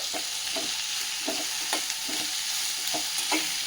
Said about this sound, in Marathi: ही भेंडी ह्याच्यामध्ये घालून घ्यायची मस्त मिक्स करून घेऊयात